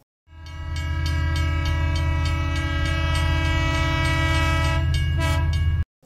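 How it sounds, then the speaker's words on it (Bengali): A train blows a long, steady whistle over a deep rumbling engine as it pulls into a station at night, sounding loud and close for several seconds before cutting off. "হুইসেল বাজিয়ে ট্রেন এসে দাঁড়ালো স্টেশনে"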